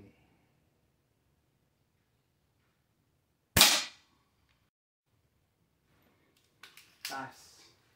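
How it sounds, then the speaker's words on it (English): Indoor shots from a Ruger Mark IV pellet pistol, two sharp snapping cracks several seconds apart in a quiet room, the second preceded by small cocking clicks, with silence between. "So listen to the sound that this gun emits."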